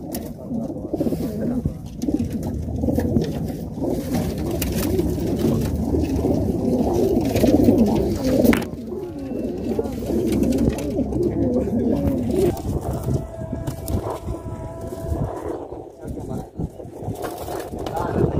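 Pigeons coo repeatedly in soft, low burbling calls, including a red-ringed pigeon, with people talking and some handling noise mixed in throughout.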